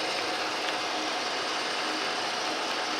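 A metal lathe runs at slightly raised speed while machining a new shaft for a New Haven metal planer, a steady close mechanical whir with a fine rapid ticking texture throughout.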